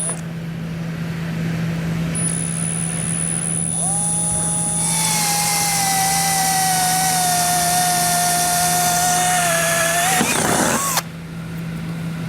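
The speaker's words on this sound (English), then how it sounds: "we're going to carefully drill the center of this out" A power drill whines steadily at close range, its pitch holding level as it drills out a metal rivet while installing a trailer hitch receiver on a 2022 Lincoln Aviator, then it cuts off abruptly near the end.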